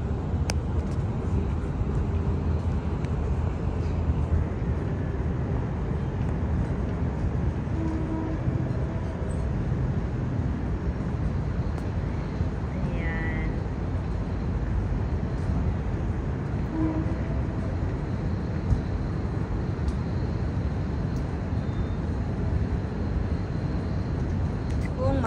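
Open-air ambience at a train station in Thailand: a steady broadband wash of rumble and crowd murmur with a faint high whine throughout, occasional distant announcements or chirps, and background talk blending in.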